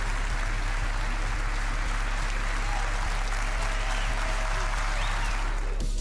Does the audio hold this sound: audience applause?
yes